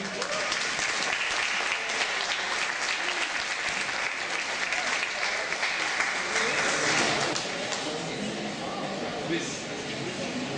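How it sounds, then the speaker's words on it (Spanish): Sustained audience applause at an arts event honouring a renowned Costa Rican pianist, a dense wash of clapping from a sizeable crowd that carries on steadily for about ten seconds. "Quisiera que le brindemos un aplauso a don Luis Monge"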